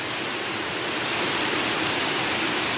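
A waterfall in Krasnodar pours in a steady, loud, dense rush of falling water, continuous and unbroken throughout, with no voices.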